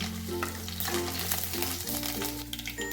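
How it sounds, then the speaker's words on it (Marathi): Garlic frying in hot oil with cumin and mustard seeds for a Maharashtrian besan pitla, a steady close sizzle with light crackle and occasional stirring, and no talk. "जिरे आणि मोहरी थोडस तडतडलं की आपल्याला लगेच यामध्ये लसूण घालायचं आहे आणि या लसणाला छान गुलाबी रंग येईपर्यंत तळून घ्यायचा आहे"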